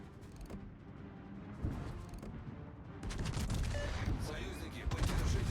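Battleship guns fire in World of Warships, deep booming salvos and rumbling naval combat building in intensity, with a voice talking over the action.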